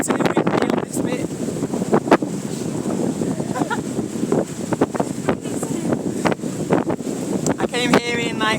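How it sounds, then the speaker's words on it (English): Gusty wind blows steadily across an open lakeside north of Lake Chuzenji near Mount Nantai in Japan, a constant broadband rush with buffeting against the microphone, while a person talks over it throughout. "For some reason it's totally windy on this bit."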